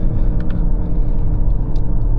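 A 2025 BMW X5 50e plug-in hybrid with a B58 engine pulls hard under acceleration, a loud low rumbling drone with wind roar and faint cabin ticks, heard from inside the car without any talking.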